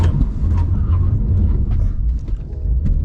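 A BMW M4 CS rumbles loudly up close, its engine pulling hard through an urgent restart and acceleration, a dense low growl that holds steady for a few seconds without speech.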